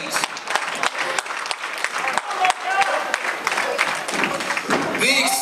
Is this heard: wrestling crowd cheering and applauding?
yes